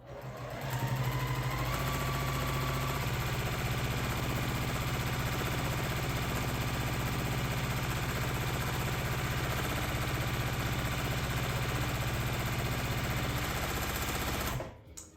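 A sewing machine hums steadily while free-motion quilting a throw-sized quilt, one long close, even drone that runs almost unbroken before cutting off at the end.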